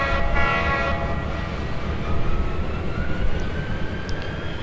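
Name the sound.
train moving in Trainz video game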